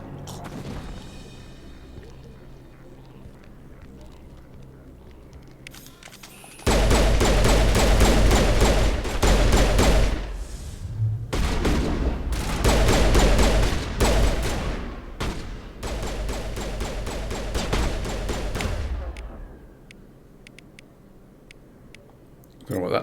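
Loud, rapid bursts of gunfire in Mass Effect Legendary Edition, firing in dense volleys with short gaps for about twelve seconds before dropping back to quieter game ambience.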